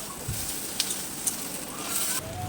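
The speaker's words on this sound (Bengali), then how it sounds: "রসুনটা দিয়ে একটু ভেজে নেব" Garlic paste with onion and green chili frying in a pan for chicken moglai paratha gives a steady, close hiss, with a couple of light clinks from the pan.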